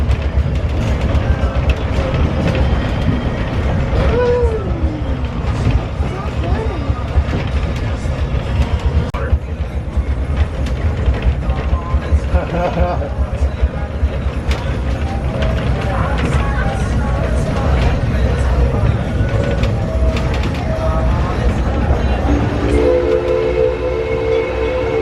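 A Six Flags Railroad train ride at Six Flags Over Texas during the holiday season, with steady rail rumble and clatter throughout and a brief whistle-like tone near the end. People talk over the train noise.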